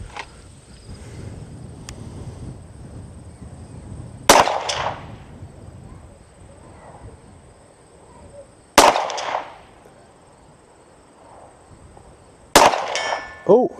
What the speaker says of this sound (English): So the steel's down there at the berm as always, and we'll try to get some rounds on target.